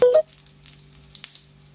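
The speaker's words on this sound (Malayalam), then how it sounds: "കാഷ്യൂ നട്ട്സ് മുപ്പിച്ചെടുക്കുകയാണ്, അതുപോലെ കിസ്മിസ് കൂടെ." Cashew nuts and raisins fry in a pan for mutton biryani: a brief tonal beep opens, then faint, sparse sizzling crackles follow quietly.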